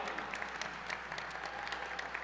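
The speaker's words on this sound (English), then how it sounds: "Let's give another round of applause for Cammie Liz and that wonderful national anthem" Steady applause from an evening audience at a city's State of the City address, following a national anthem performance, moderately distant and soft, with a faint tone running underneath.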